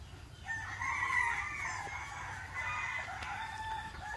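Breeding roosters on a chicken farm crow in a long drawn-out call at moderate distance, fairly faint over steady background noise.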